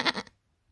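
A mountain goat gives a single short, nasal bleat, close and fairly loud, followed by silence.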